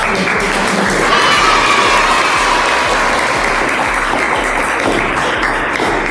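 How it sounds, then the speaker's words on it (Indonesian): A classroom of students applauds together at the end of a morning sociology lesson, a dense, steady wash of many hands clapping at once that holds loud and continuous throughout. "Mari kita tepuk tangan semuanya dengan yang luar biasa."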